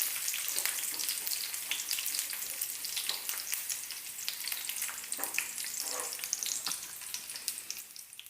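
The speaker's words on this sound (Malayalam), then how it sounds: "കിസ്മിസ് പെട്ടെന്ന് തന്നെ മൂത്ത് കിട്ടും. ഇനി ഇത് നമുക്ക് വറുത്ത് കോരാം" Raisins frying in hot ghee for ghee rice, a steady close sizzle with a few soft stirring clicks and no voices.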